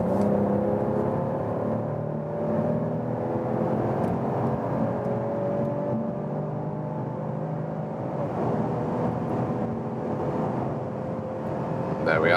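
Mercedes CLS 450 facelift (2022) in Sport Plus mode, accelerating hard from 100 km/h on a public road: a steady, loud in-cabin engine drone with rising harmonic tones, continuous for the whole stretch.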